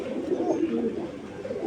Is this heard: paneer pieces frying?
no